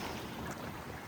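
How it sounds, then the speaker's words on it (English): Steady wind roars across the microphone aboard a sailboat on Lake Erie, a broad, even rush with water and waves washing beneath it, continuous and fairly loud throughout. "the wind is picking up"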